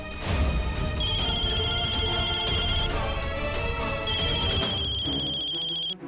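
A telephone rings electronically in two repeating stretches during an indoor drama scene, steady and moderately loud over background music, with no voices.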